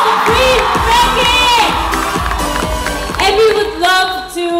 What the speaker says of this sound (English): Let's give a warm applause to Freen Becky!